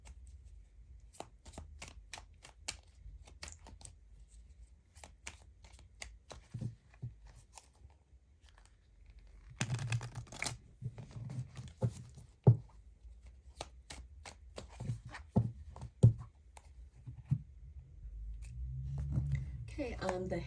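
Everyday Witch Tarot cards shuffled and handled close up, with soft riffling, flicking and tapping sounds in scattered bursts, then denser shuffling partway through, all quiet and intimate with no talk.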